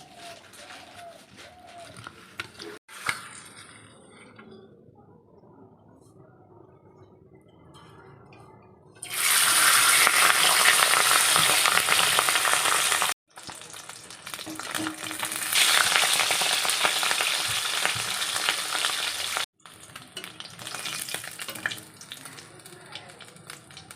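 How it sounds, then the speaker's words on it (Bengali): Fish frying in a pan, a steady loud sizzle that breaks off and returns in several bursts, with quieter kitchen sounds and some talk between them. "এখানে মাছ ভাজা হচ্ছে"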